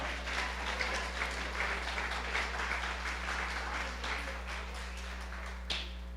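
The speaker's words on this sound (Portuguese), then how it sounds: "Dê uma salva de palmas ao Senhor." A church congregation giving applause during a sermon, a moderate, rhythmic patter of clapping over a steady electrical hum, tapering slightly toward the end.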